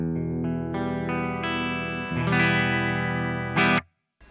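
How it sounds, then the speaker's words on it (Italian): An electric guitar played clean through an American Tube Clean amp simulation with no pedal, a string of ringing notes and chords shifting upward, bright and sustained with a touch of reverb, ending in a quick stop. "Sentiamo il suono della chitarra senza l'utilizzo del pedale"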